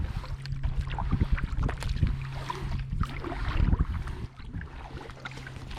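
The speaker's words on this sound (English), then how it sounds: "So I'm just going to paddle at a nice" A kayak paddle strokes through the water of the Suwannee River in an irregular rhythm of splashes and drips, with light wind and a faint hum underneath.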